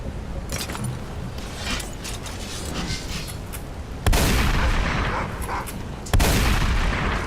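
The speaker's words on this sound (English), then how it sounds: "I don't know if this witch hunter pistol will work, but we're gonna give it a shot." Two sharp, loud pistol shots from a witch hunter pistol in Skyrim crack out about two seconds apart, each followed by a short ringing tail, after a stretch of quieter game sounds.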